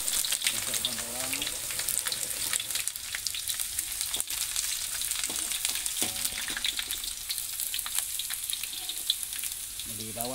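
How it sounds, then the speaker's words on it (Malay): Onions frying in hot oil in a pan for a fern (pakis) dish, a steady close crackling sizzle throughout with occasional stirring clatter and faint voices in the background. "Minyak sudah masak, sudah panas. Kita memasukkan bawang."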